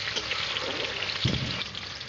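Tomatoes hit a frying pan with cinnamon, cumin and bay leaf, a constant hot sizzle with a burst of splattering and stirring midway, close and unbroken by speech.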